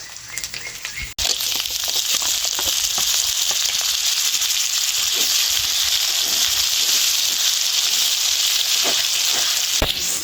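Chopped tomato hits hot oil with onion, ginger, garlic and green chilli for a Bengali katla fish kalia, giving a loud, continuous sizzle after a brief clatter, with scattered stirring scrapes.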